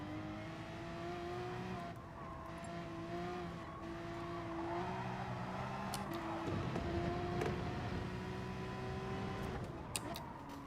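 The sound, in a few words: Porsche race cars in Gran Turismo video game race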